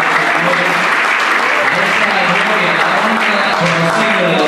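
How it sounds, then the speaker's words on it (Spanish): Loud, dense clapping from a church congregation during live worship, continuous and energetic, with voices audible underneath. "Dale palmas al Rey de Reyes y Señor."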